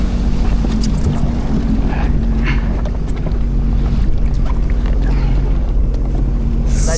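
A jet ski rides on the open sea off Itapema, SC, its engine droning loudly and steadily as the hull slaps the water and wind buffets the microphone, with no clear voices.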